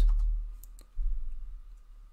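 A few quick keystrokes click on a computer keyboard, light and close, with brief pauses between them.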